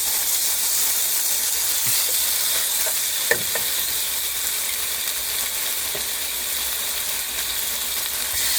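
Thin pork chops frying in a hot pan, a steady, loud bed of hiss and sizzle that holds throughout, with one sharp knock from the pan partway in and no voices.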